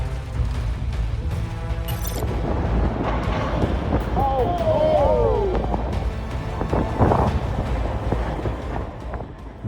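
Strong Hurricane Ian wind buffets the microphone in a continuous loud roar and rush, with gusting surges and some rattling debris sounds.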